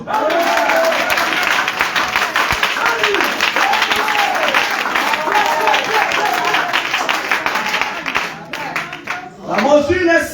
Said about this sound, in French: Donne-moi les acclamations.